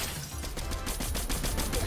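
Gunfire from a weapon in Fortnite, a steady run of rapid shots forming a busy, continuous burst at moderate loudness with no talking over it.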